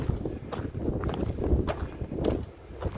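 Heavy wind buffets an open outdoor spot, a steady rumbling roar with gusts swelling and easing throughout, close and loud against the microphone with no other clear sounds.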